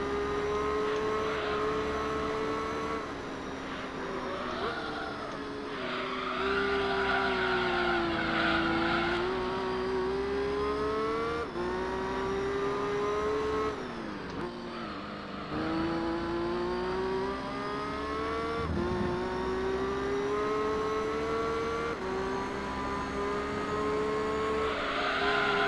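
Racing car engine from the Gran Turismo 3 video game, a sustained loud whine that rises and falls through gear changes for the whole stretch, with no talk over it.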